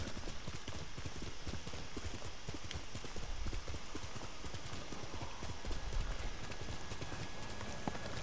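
Rapid hoofbeats of a galloping horse in the video game Ghost of Tsushima pound steadily and close, a dense clip-clop rhythm running throughout with no talking.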